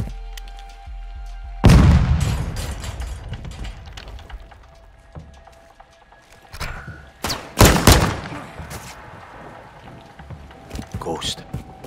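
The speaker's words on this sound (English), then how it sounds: "That's a frag." Frag grenade blast in Call of Duty: Modern Warfare 2, a loud booming thump followed by scattered gunfire and a second cluster of sharp bangs, with battle chatter and voices over the combat.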